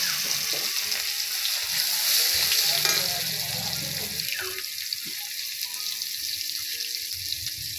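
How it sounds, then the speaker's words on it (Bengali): Spice paste and cumin frying in a pan with bay leaf, a steady close sizzle with scraping stir sounds throughout and no talking. "মশলা একটু ভাজা করে নিব।"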